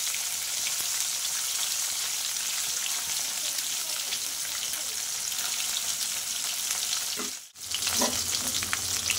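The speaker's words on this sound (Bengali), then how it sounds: "মাছগুলো আগে আমি একটু ভেজে নিই।" Fish sizzle steadily in hot oil in a pan, a continuous crackling fry with brief clinks of stirring and a short dip near the end.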